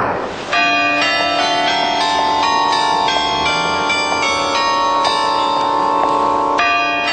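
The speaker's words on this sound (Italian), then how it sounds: "Le campane del municipio segnano le ore suonando un antico canto popolare." Town hall bells in Kecskemét, Hungary, ring out an old folk tune as a chime, clear sustained tones struck one after another in a slow melody that ring loudly and resonate.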